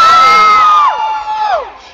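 A concert crowd at Vans Warped Tour 2010 cheers and screams in high, piercing shrieks and whoops that hold loudly, then dip and trail off within about two seconds.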